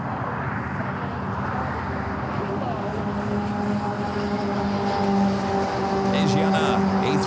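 Asiana Airbus A380 turning onto a taxiway at LAX, its steady jet engine rumble and whine continuous and moderately loud throughout, with a voice speaking over it.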